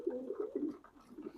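A racing pigeon coos softly at the loft just after a race, a few low rounded calls repeating close by with no talk over them.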